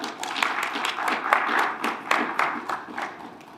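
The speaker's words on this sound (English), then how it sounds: "Can we give our presenters a round of applause?" An audience at an event applauds presenters, a dense spread of hand claps rising and fading over a few seconds, with a voice partly heard beneath.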